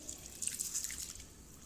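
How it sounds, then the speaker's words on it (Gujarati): Excess rinse water drained off washed lentils and rice, a faint run of light drips and trickling close by, brief and soft with no talk. "એક્સ્ટ્રા પાણી કાઢી નાખવાનું છે।"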